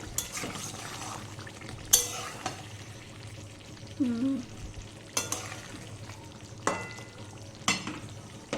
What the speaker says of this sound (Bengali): মাংসটা থেকে কতটা জল বেরিয়েছে, একটু নেড়ে দিই।